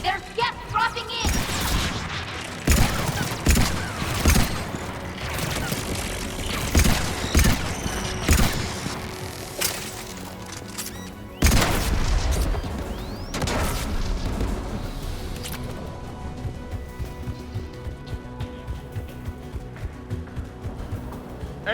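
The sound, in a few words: AA guns firing from the video game Mass Effect 3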